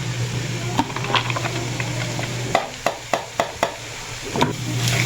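Carrots stirred in a cooking pan: a run of sharp utensil scrapes and knocks in a steady rhythm, close and fairly loud, over a constant low hum.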